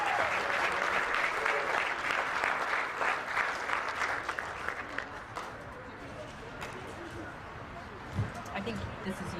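Audience at a charity golf classic event applauds for Gary Farney, a steady, dense wash of clapping that stays loud throughout and tapers slightly toward the end, with a few scattered cheers mixed in.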